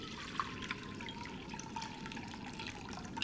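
Water runs from a tap into a pot to make soup stock for vegan Korean somen noodle soup, a soft continuous trickle with faint drips and clinks nearby.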